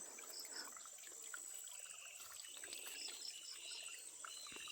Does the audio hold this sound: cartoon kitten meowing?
no